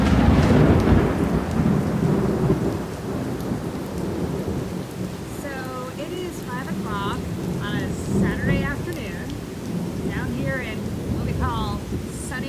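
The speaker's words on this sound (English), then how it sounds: "a lot of loud noise, a lot of lightning that can be pretty spectacular, and a torrential downpour" A thunderstorm with torrential rain: a heavy rumble of thunder opens over a constant hiss of downpour, with chirping birdlike calls scattered over the rain later on.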